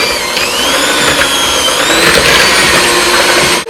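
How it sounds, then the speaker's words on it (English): An electric hand mixer beats sugar and butter together in a bowl, a loud, close, steady motor whine with a slight rise in pitch, running without pause until it cuts off abruptly at the end. "First you'll need to pull out an electric mixer, then mix together the sugar and butter"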